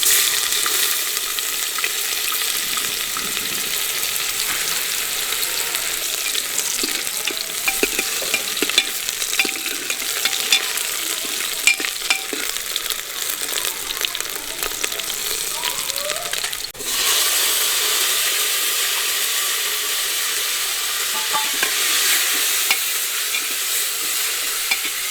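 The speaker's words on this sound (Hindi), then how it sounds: "तो अभी छोंक लगा दिया है" Cumin seeds sizzling and crackling in hot oil during tempering for a home-cooked Indian meal, a steady close frying hiss that continues throughout with occasional stirring scrapes.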